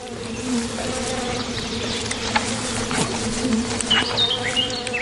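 Swarm of bees buzzing around a hive raided by bears in the Russian wilderness, a dense steady drone of many wings close by, with individual insects zipping past, continuous and unbroken with no voices.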